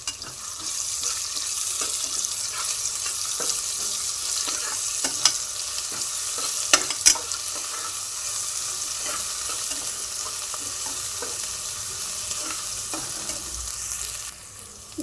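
Ginger garlic paste frying with onions and curry leaves in a pan for mutton curry, a steady broadband sizzle throughout with a few sharper spatters and stirring clicks near the middle, close and fairly loud, no talking.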